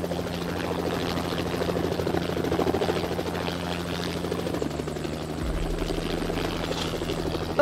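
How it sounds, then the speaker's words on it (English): Helicopter rotor and engine drone in a video game, a steady loud thrumming beat that holds throughout and deepens slightly toward the end. "It's a helicopter."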